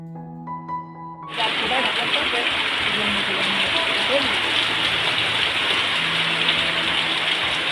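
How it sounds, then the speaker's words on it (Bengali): Heavy rain pours down steadily in a dense, loud wash of noise, starting abruptly after a quieter moment with faint tones. "বৃষ্টি আর ঝমঝম একটা শব্দ করতেই আছে করতেই আছে"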